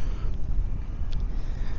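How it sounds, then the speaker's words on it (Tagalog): Steady low rumbling wind buffeting the microphone at the San Juanico Bridge, continuous and fairly loud, with no voices. "Hangin lang nga di."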